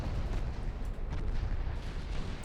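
Dense rumbling barrage of naval gunfire and shell impacts in the Ultimate Admiral Dreadnoughts warship game, a continuous low boom texture with repeated thuds throughout, fairly quiet and steady with no talk.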